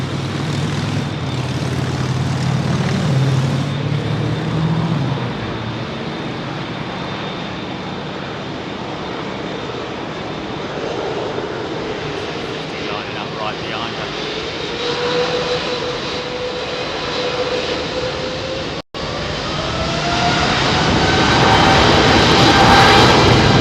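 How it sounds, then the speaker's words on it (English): A Boeing 777-300 jet taxies at London Heathrow with a steady engine whine and rumble at moderate distance, a rising tone emerging mid-way and the noise growing louder toward the end after a brief dropout. "Beautiful Boeing 777-300, looking very clean."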